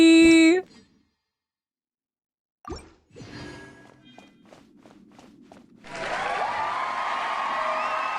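A livestream alert cheer: a short bright chime, a pause, a few scattered taps, then a sustained roar of crowd cheering that holds steady through the final seconds.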